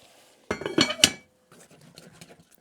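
A metal spoon clanks and scrapes around a pot of grits, followed by a lid clattering into place, then a quiet, faint rustle as the pot settles.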